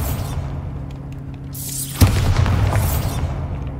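Bombarda blasting spell explosion in Hogwarts Legacy, a sharp booming burst midway that rolls into a sustained rumble with whooshing game effects over a steady ambient drone.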